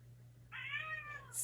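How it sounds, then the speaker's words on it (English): A single short cat meow, clear and fairly close, rising and falling over about a second against a quiet indoor hum. "Stitch, stop meowing, dude"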